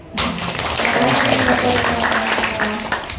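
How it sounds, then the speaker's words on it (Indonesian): A small group claps after a storytelling performance at an Indonesian school event, a fairly loud close burst of clapping with a voice speaking over it. "Tepuk tangan deh"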